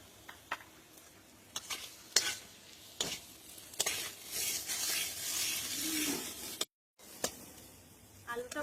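Potatoes frying in a pan with turmeric and salt, stirred with a utensil: steady sizzle under repeated scraping strokes and clinks, with a brief cut to silence near the end.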